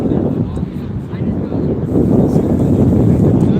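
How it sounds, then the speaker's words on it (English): Strong wind buffets the microphone with a loud, rumbling roar that swells and gusts throughout, growing heavier toward the end. "Very windy day."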